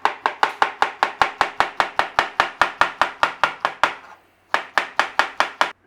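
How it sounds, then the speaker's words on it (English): Quick, evenly spaced knife chops on a board as bananas are thinly sliced for a traditional English Manchester tart: a long run of about eighteen crisp strokes, a short pause, then several more, close and clear. "We have to thinly slice some bananas, and we're going to put them on the bottom of there."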